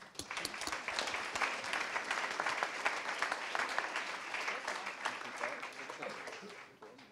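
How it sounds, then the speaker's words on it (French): Sustained audience applause following a fashion-tech round-table discussion, dense steady clapping from a large crowd lasting several seconds before tapering off at the end, with no talk over it. "Merci beaucoup, on vous applaudit."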